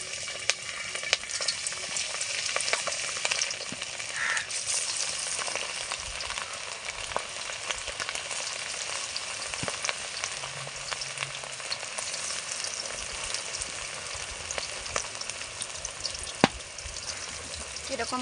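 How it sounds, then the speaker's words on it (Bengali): Chicken pieces for chilli chicken frying in hot oil, a dense, continuous crackling sizzle with tiny pops throughout, steady and close, with a few faint spoon clinks. "তেল গরম হয়ে গেছে বন্ধুরা, এবার আমি মাংসগুলো তেলের মধ্যে দিয়ে দেবো।"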